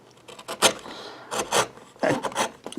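A dull gouge scrapes and rasps across a cherry wood tray during hand carving, with several rough strokes in irregular bursts, close and moderately loud, no voices.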